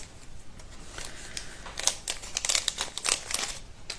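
Paper ribbon crinkles and rustles up close as it is pressed and stuck onto a cardboard box, a run of soft scratchy handling noises that gets busier toward the end, with no talking.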